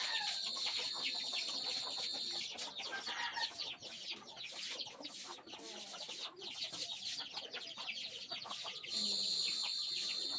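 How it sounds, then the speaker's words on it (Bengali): Chickens cluck in a home courtyard where ducks and hens are kept, steady close calls over busy birdsong and faint rustling, a few sharper squawks standing out through the ten seconds. "আমাদের বাড়িতে প্রচুর হাঁস মুরগি আছে।"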